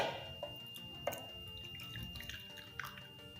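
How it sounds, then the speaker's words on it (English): Strained homemade toner liquid trickles and drips faintly into a smaller bowl, a quiet, close, irregular patter of small splashes. "after straining it, I'll be transferring it into a smaller bowl like this"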